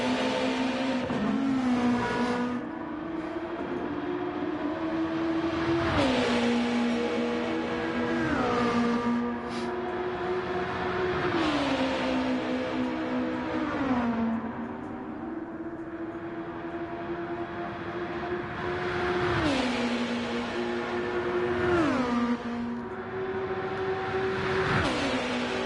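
Race car engines in the Gran Turismo 7 video game at the Nürburgring 24-hour race rev steadily, with repeated gear shifts rising and dropping in pitch. The loud, continuous drone has no talk over it.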